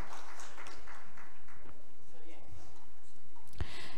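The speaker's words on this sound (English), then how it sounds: "Let's give a very big round of applause and welcome him as well" Audience applause at a policy dialogue forum welcoming a speaker on stage: steady, moderately loud clapping from a seated crowd that continues throughout, with a sharp knock near the end.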